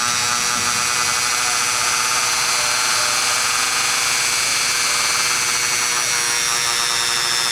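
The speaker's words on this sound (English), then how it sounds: "I drill a hole on each side of it," A small power drill boring holes in a block of wood whirs steadily at close range, a continuous high-pitched motor whine with no talking.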